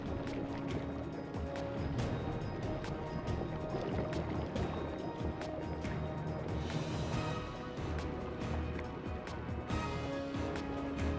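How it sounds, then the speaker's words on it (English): Air bubbles from a hose on the sea floor, fed by surface compressors ramping up to 1,200 cubic feet per minute, churn as a dense, steady watery rush with surging texture throughout. "And here come the bubbles."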